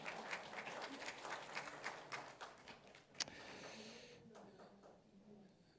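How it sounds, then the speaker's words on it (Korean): A congregation claps during a Sunday morning Methodist church service in Miryang, with thick, lively applause that thins out and fades to quiet halfway through, broken by one sharp knock. "다시 한번 박수 한번 하겠습니다."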